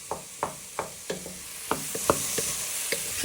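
Wooden spoon pressing and stirring prawns in a sizzling pan, a series of regular scraping, squashing knocks over a constant frying hiss, close and clear with no talk.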